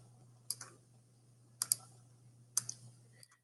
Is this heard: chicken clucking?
no